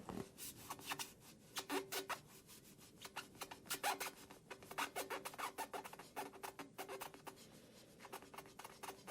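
Soft, close scrubbing strokes in a whispered creature roleplay, with repeated bursts of brisk rubbing and scratching in uneven rhythm and short pauses, quiet and heard alone.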